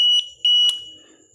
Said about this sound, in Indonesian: Jadi ini saya memakai buzzer yang 5 volt DC ya, makanya bunyinya enggak terlalu kencang ya.